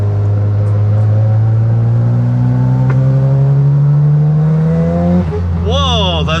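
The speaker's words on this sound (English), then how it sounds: "Whoa, those turbos come on hard." A Mazda FD RX7 sports car pulls hard as its turbos spool up, engine pitch climbing steadily and loudly from inside the cabin before a gear change and a second rising surge.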